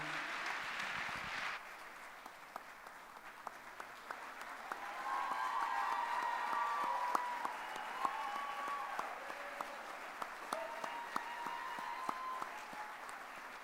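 Sustained applause fills a Queens University Athletics Hall of Fame ceremony for the 2024 inductees, a dense steady patter of many hands that starts abruptly and holds loud, with a few brief voices rising above it.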